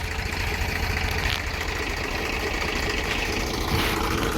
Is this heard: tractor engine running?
yes